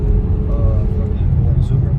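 A Toyota Supra driving past at an evening car meet, its engine a low, steady rumble close by that swells slightly and fills the clip, with people talking over it.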